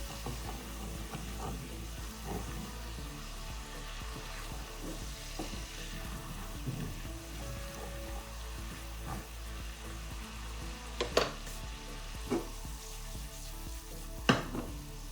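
Peppercorns being stirred through a simmering peppercorn sauce in a pan, a continuous soft sizzle with occasional louder clicks and scrapes of stirring near the end, no voices.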